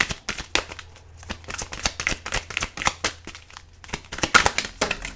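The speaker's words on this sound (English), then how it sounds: "I'm gonna keep shuffling" Tarot cards shuffled by hand in a quiet room, a rapid series of crisp riffling and slapping bursts that repeat in uneven rhythm, close and fairly loud, with no talking.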